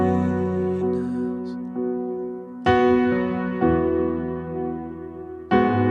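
Worship keyboard chords ring out with a long, spacious reverb, each new chord struck at intervals and its tail sustaining and blooming between strikes, with no voices.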